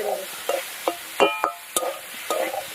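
Chicken singara filling with turmeric and pepper being stirred in a pan, a spatula scraping and clacking against the metal in about eight distinct strokes over a soft sizzle, close and clear.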